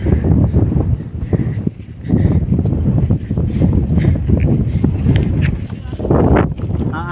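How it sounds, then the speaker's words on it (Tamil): Loud wind gusting across the microphone in heavy bursts at a hilltop Shiva temple, with people talking underneath throughout. "காற்று அருமையாக அடிக்குது."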